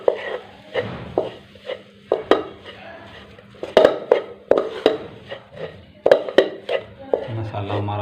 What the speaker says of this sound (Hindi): और इसको अच्छी तरह मिक्स कर लें।